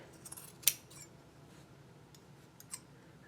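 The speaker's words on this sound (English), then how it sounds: "Let me trim this guy." Scissors trimming fabric at a sewing table: one sharp snip stands out, with a second fainter cut near the end and a few soft handling clicks between them, fairly close and otherwise quiet.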